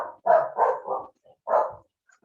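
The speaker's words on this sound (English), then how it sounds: "I'm gonna wait till my dog's done barking." A dog barks nearby in a quick run of about four loud woofs, then a short pause and one more bark, with no talking over them.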